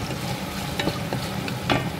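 Garlic frying in a pan while being stirred, a continuous close sizzle broken by a few scraping strokes of the utensil against the pan.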